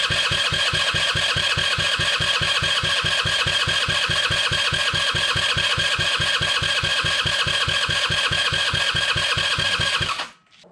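A Carter Talon 150 go-kart engine cranks and chugs in a loud, fast, even pulsing rhythm for about ten seconds, close up, then cuts off abruptly near the end.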